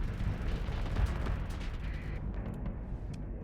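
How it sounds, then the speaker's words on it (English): A whiteout explosion in the space game Long Haul rolls out as a deep, rumbling blast with crackling bursts, holding steady before thinning out toward the end. "Because I like the whiteout explosions"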